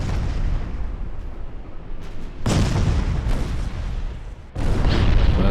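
Torpedo hits on a battleship in a naval warfare game with pre-dreadnought ships, heard as heavy rumbling booms in three successive waves, each a loud, deep blast with a long roaring tail.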